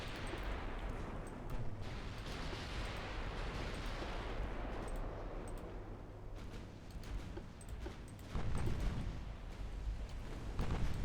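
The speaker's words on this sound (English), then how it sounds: "Rodman has fired its second salvo and may rejoin Division 7." Naval battleship guns fire salvos in Ultimate Admiral Dreadnoughts, with distant booming blasts rolling into a continuous low rumble of explosions and a heavier report near the end.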